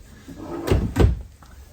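A storage drawer in a 2022 Keystone Avalanche 390DS fifth-wheel RV slides and bumps shut in two quick, close-up thuds a fraction of a second apart in a quiet interior.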